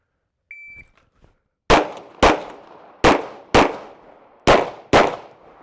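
Shot timer beep followed by six loud pistol shots fired from the draw in pairs, two rounds per target across three targets, with short gaps between pairs and a ringing decay after each shot.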